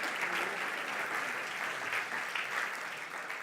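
An audience applauds steadily to welcome historian Douglas Brinkley onto the stage at a book talk, a dense wash of clapping from a crowd heard without any voices.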